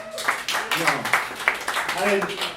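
Audience applause at a live comedy show, mixed clapping that swells and fades beneath a comedian talking into the microphone.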